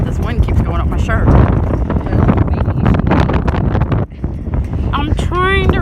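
Gusty wind buffets a microphone outdoors with heavy, loud low rumbling and a brief lull partway through, while a person talks over it.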